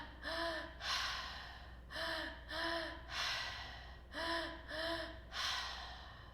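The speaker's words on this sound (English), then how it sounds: "So a few more minutes of this active breath here." Forceful rhythmic breathing during an active breathwork session, with repeated sharp inhale-exhale cycles in pairs, close and fairly loud, with no talk.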